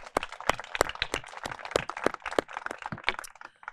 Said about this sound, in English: Let's have a little round of applause for Kelly Burke